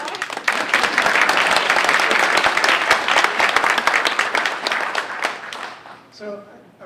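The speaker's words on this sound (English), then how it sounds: "So one round of applause for that" A school's 100th anniversary celebration crowd claps in a loud, dense burst of applause that holds steady for about six seconds, then fades out as a voice begins speaking.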